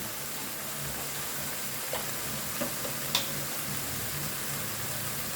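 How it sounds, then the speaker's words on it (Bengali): Ground cumin and coriander powder fry in a pan as they are stirred, giving a soft, steady sizzle with a few faint scrapes and clicks of the spoon. "এবারে ভালোভাবে মশলাটা আমি কষিয়ে নেব।"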